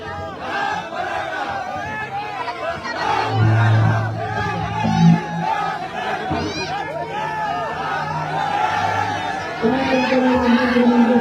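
A large crowd at Azad Maidan celebrates the granting of Maratha reservation, roaring, chanting and shouting together in a loud, unbroken din. Individual voices cry out over the mass of noise, and excited chatter runs throughout.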